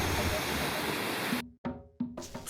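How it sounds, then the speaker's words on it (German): Waterfall on Lombok, a continuation of the Tiu Kelep falls, rushing as a dense, steady wash of water noise that cuts off abruptly partway through, followed by brief broken sounds. "Dieser schmucke Wasserfall ist eine Fortsetzung des Tio Keleb"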